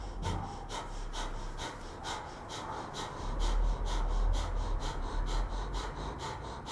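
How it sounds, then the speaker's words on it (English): Short, forceful nasal exhales of a breathing exercise repeat in a steady quick rhythm, each sharp puff followed by a soft passive inhale, close and continuous with no talking. "It's a little bit more of a forced exhale and a very passive inhale."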